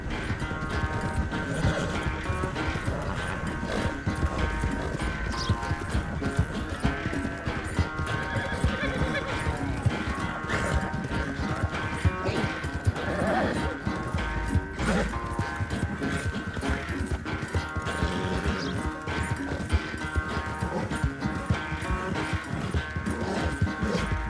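A horse gallops through Red Dead Redemption II, its rapid hoofbeats pounding on without a pause alongside neighs and whinnies, under a steady music score and clattering game effects.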